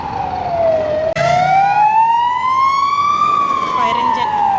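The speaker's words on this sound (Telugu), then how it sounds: "Fire engine." A fire engine siren on a Lisbon street wails loudly and close by, its pitch sweeping slowly down, then up and down again in a continuous cycle over traffic noise.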